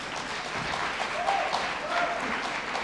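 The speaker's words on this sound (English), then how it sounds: "Can we give Motra a round of applause?" An audience claps for a speaker at a social-impact innovation event, a moderate, steady rush of applause in a large room, with faint voices underneath.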